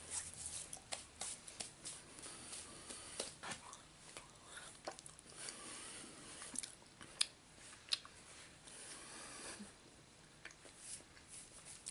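A powdered cookie with coconut being chewed during a taste test, giving faint, close crunchy bites and irregular mouth clicks over a quiet background.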